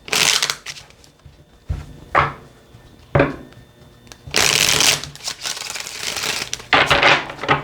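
Tarot cards being shuffled up close in several bursts of crisp riffling and flapping, separated by short pauses and softer handling.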